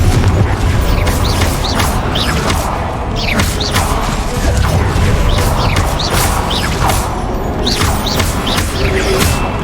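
A Confringo blasting spell from Hogwarts Legacy goes off in a busy game battle, with loud repeated booms and crashing bursts layered over dense, continuous combat noise.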